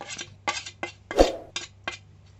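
A spoon clinks and scrapes against a bowl as chicken pieces are mixed with salt and turmeric for crispy chicken pakodi: six sharp, separate metallic taps in a short spaced rhythm, close and clear, no voices.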